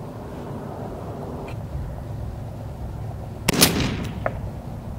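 A single AR-15 rifle shot from an 18-inch Bear Creek barrel firing 77-grain match ammunition, a sharp loud crack with a short echoing tail, heard against steady outdoor background noise.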